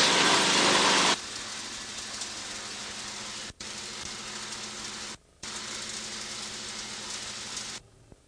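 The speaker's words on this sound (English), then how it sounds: "I'm going to bring the RPMs up and we'll check the charging system" A small propeller aircraft's piston engine runs up during a ground check of the charging system. A loud burst at the start settles into a steady, close engine drone, broken by two brief dropouts before it cuts off at the end.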